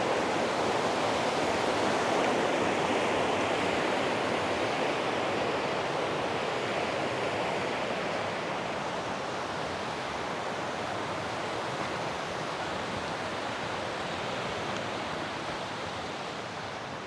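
River water rushes steadily as a rider crosses on an e-bike, a broad, loud, unbroken wash of flowing water that eases slightly over time.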